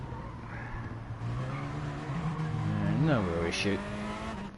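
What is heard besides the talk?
race car braking hard, tires squealing, in racing video game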